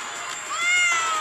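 A cat meows once in a drawn-out, rising-then-falling cry, clear and close, with nothing else behind it.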